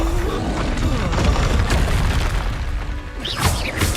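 The Confringo fire spell explodes in the Hogwarts Legacy video game, booming and crashing in a dense, loud wash of blasts and impacts with little break.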